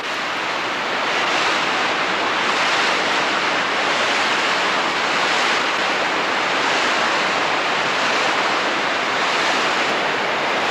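Flooding creek water rushes steadily past a log jam against a bridge, a dense, continuous roar of broadband turbulence held at an even, loud level throughout with no talk.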